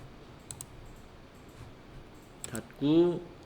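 A computer mouse clicking through buttons in electronic tax invoice accounting software: a few quiet, sharp clicks spaced apart, a pair near the start and another later, followed by a short burst of a person's voice at the end.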